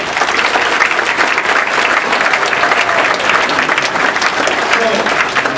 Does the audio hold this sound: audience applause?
yes